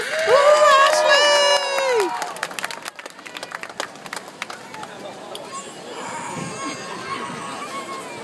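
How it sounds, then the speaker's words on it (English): Crowd at a Knott's hip hop dance show cheers, whoops and claps for a dancer, loud and close at first, then settling into scattered clapping and chatter. "Give him a round of applause."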